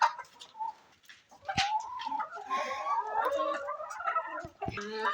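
Chickens on a poultry farm cluck and coo in a busy, continuous flock chatter, with several birds calling at once at moderate loudness after a quieter opening.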